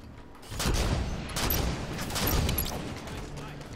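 Sniper rifle shots in Halo 5: Guardians beta multiplayer on the Empire map, several sharp cracks spaced unevenly across a few seconds over a dense, noisy game mix.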